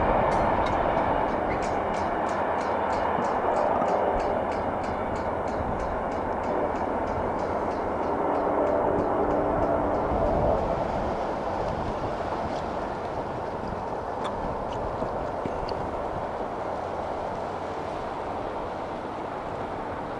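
CSX diesel locomotive running long hood forward and chugging by, a steady loud engine rumble with a rhythmic ticking clatter early on, close and continuous throughout with no clear talk.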